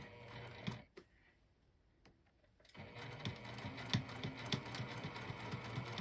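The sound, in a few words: sewing machine stitching around sling bag outline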